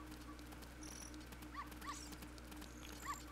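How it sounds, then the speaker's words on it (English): A white dog in Legend of Zelda: Ocarina of Time lets out a few quiet, spaced yips over a constant low background hum, with a couple of faint game tones in between. "come on there, doggy. Let's go."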